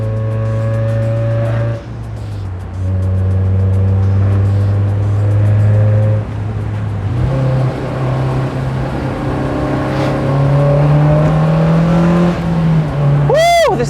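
A Honda S2000's 2-liter dual overhead cam four-cylinder F20C engine drones steadily while driving, pitch climbing gradually between shifts, loud and continuous from inside the car.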